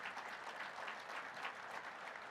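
A convention audience applauds steadily at a moderate distance, a dense, even patter of many hands clapping throughout with no talking.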